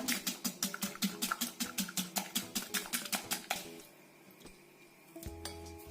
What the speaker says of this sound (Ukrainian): сколочуємо одне яйце